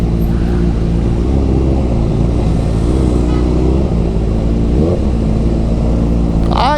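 Busy road traffic heard from close among vehicles: a loud, continuous drone of engines and motorbikes, with a faint rising whine near the end.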